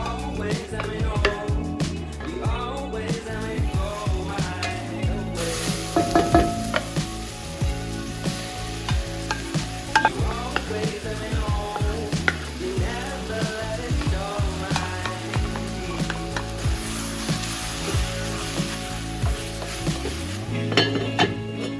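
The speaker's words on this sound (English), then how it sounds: "Some olive oil into a pan, throw your onions in" Chopped onions sizzle in olive oil in a home kitchen pan, a steady close frying hiss with occasional clinks of a utensil against the pan, no talking.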